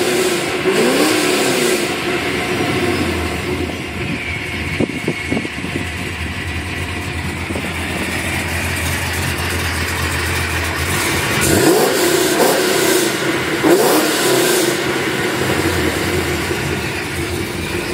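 A rebuilt Pontiac GTO engine runs steadily, a loud close rumble that swells briefly as it is revved, with no voices over it.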